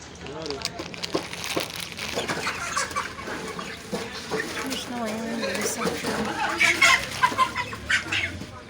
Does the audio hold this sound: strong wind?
no